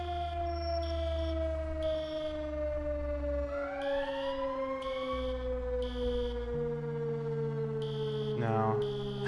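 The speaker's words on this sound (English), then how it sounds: "You can hear the alarm going off." An emergency alarm in the game EmergeNYC, a steady wailing siren tone that slowly glides in pitch and holds clear and continuous, with short alarm bursts layered over it and no talking.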